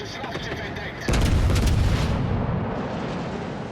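A heavy battleship salvo erupts in a naval video game with the German battleship Brandenburg, a loud deep boom that swells in suddenly and rumbles on for a couple of seconds over a continuous low game backdrop.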